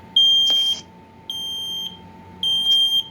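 A hardwired SA720 smoke alarm is being tested. It gives three loud, high-pitched beeps in a steady temporal pattern with short gaps, heard close up over quiet room noise.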